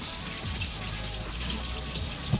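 Running water from a tap streams steadily over a FINDKING Dynasty Series Santoku knife being washed at a sink, a close, continuous splashing hiss.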